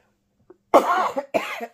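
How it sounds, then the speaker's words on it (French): Two harsh coughs, close and loud, come one after another after a brief quiet moment, with a short pause between them. "il suffit que je parte la vidéo, puis je commence à tousser"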